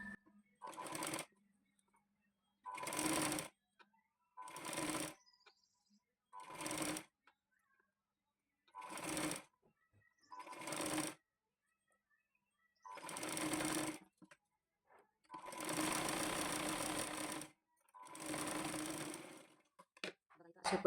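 Sewing machine stitching a blouse cup, running in short repeated bursts of rapid whirring stitches separated by quiet pauses, close and clear, with some talk between runs.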